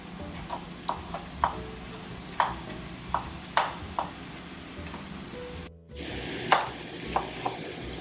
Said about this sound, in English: We just remove the skin and we're going to chop them roughly and add them to the eggplants.